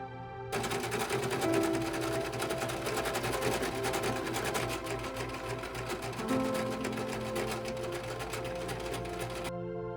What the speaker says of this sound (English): I'm going to sew this one down just up to the point where I need to insert the elastic